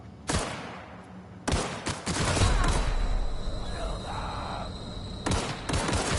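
Enemy gunfire in the video game The Outer Worlds, sharp bursts of rapid shots broken by brief pauses, loud and close, with a voice reacting between volleys.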